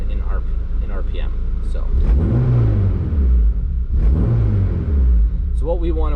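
An Acura RSX with a K24 engine revs twice, each pull climbing in pitch and falling back over a steady idle rumble, loud and close, with a brief voice near the end.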